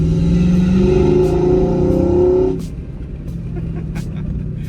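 A Nissan Skyline R34's engine revs hard, its intake roaring through a snorkel along with a loud exhaust note. The sound holds steady and close for about two and a half seconds, then drops sharply to a low idle rumble.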